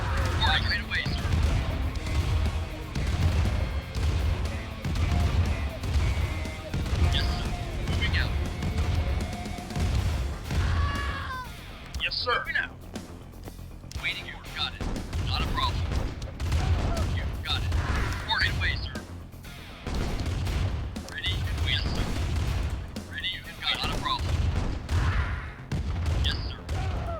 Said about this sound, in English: sounds medium tanks make when they fire